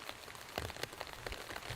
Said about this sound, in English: you still hear the rain on the roof of the tent